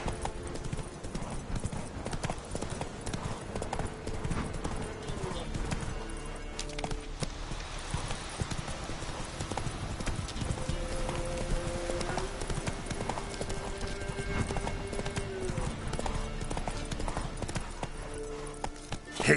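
Horse hooves clip-clop at a fast, even gallop throughout a video game set in The Witcher world, loud and continuous over a low background score.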